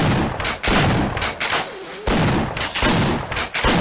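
Sustained bursts of video game gunfire blast loudly and almost continuously, with a few brief gaps between volleys as the weapon keeps firing.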